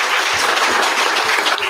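Audience applause filling a county zoning appeals meeting room, a steady dense clapping from many people that carries on evenly throughout, with no voices over it.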